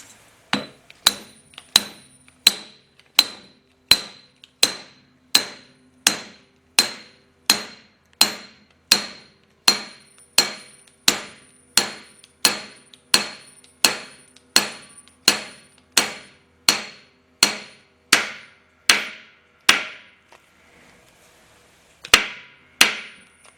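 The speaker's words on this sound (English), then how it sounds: "I like to use a heavy hammer to drive these in." Heavy hammer blows strike metal in a steady, even rhythm while driving valve guides into a Willys F-head engine, about twenty-five sharp ringing hits, then a short pause and one or two final strikes.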